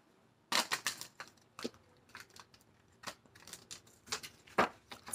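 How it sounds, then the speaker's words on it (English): Tarot cards shuffled by hand make quiet, close, crisp riffling bursts and soft taps in an irregular series with short pauses between. "Last shuffle."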